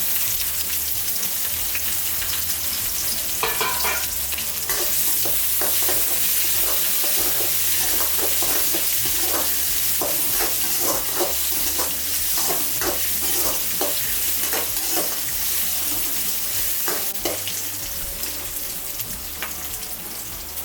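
Mustard seeds and onions fry in hot oil for seasoning idiyappam, a steady, dense close sizzle with crackling pops and occasional stirring scrapes running throughout, no voices.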